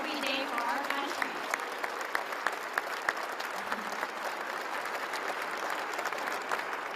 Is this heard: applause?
yes